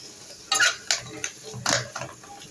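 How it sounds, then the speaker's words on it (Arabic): Okra being stirred with garlic and onions in a cooking pot, with a few distinct scraping clinks of a spoon against the metal over a soft background hiss. "انا هقعد اقلب فيها شويه"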